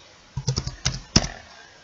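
Computer keyboard typing: a short run of about eight distinct key clicks, close and crisp, in quick irregular rhythm, ending with one sharper keystroke, with no talking.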